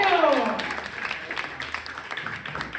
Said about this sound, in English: Big round of applause for your next comic, Gabriel Figeredo.